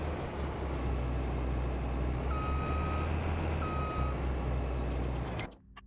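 A truck in Farming Simulator on the Iowa Plains View map backs up with two widely spaced reversing beeps over a steady low engine rumble, which cuts off abruptly near the end.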